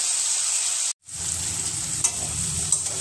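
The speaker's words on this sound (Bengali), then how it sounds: "পেঁয়াজটা একটু ভেজে নেব, একটু লাল লাল করে ভেজে নেব।" Sliced onions sizzle in oil left from frying fish, a steady close hiss broken by a brief cut, then resuming with occasional stirring clinks.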